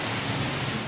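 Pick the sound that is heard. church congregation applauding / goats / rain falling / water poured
rain falling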